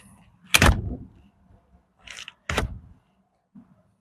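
A shed door swings shut with two solid thuds a couple of seconds apart, close and loud in an otherwise quiet setting, followed by a faint knock.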